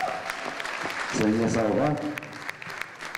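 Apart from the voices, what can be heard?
audience applause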